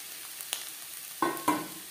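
Egg and potato bhujia being stirred in a frying pan over high flame, a soft steady sizzle with a few scraping strokes of the spoon, the last two louder and closer.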